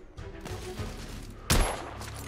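Gunfire in The Order: 1886 shooter, a brief dense burst of shots cracking out over a steady background rumble, loud and close with no talk.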